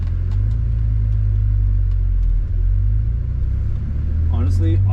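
An Audi S4 with a newly swapped 034 transmission mount rumbles along on a test drive, its engine drone loud and close inside the cabin with small rises in revs.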